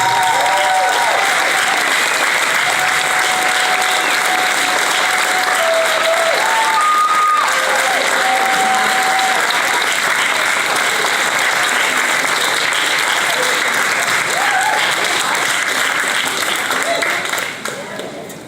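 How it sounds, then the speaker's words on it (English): Audience applause at an awards event, a steady, loud wash of many hands clapping that holds for the whole stretch, with a few voices calling out briefly, easing off only at the very end. "Do a huge round of applause."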